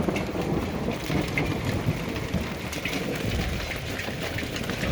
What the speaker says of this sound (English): It's like straight hail.